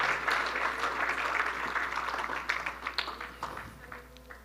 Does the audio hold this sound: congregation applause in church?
yes